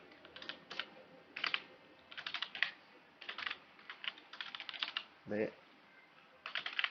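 Java code typed on a computer keyboard in Visual Studio Code, a steady run of close, crisp key clicks in short bursts and pauses, with a brief spoken word partway through.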